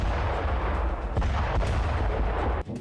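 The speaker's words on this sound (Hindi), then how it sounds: "रात भर धमाके होते रहे, सना से विस्फोट की आवाजें आती रही।" Missile strike explosions in Sanaa rumble as a dense, continuous roar of heavy blasts and booming, loud and sustained with no voices.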